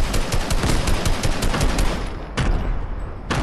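Rapid bursts of automatic gunfire in Fortnite Battle Royale, loud and close, crackle in a dense stream and then break into two isolated sharp shots after a pause, with no voices.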